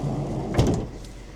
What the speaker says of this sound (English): Just open this door up.